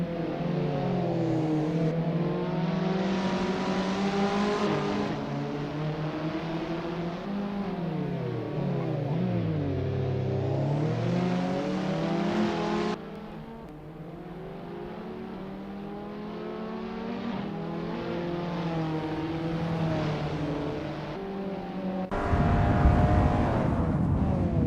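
Abarth 500 race cars in Assetto Corsa warm up at the Circuit de Pau, engines droning and revving in rising and falling whines, with a shift to a different car tone midway and a louder rumble at the end.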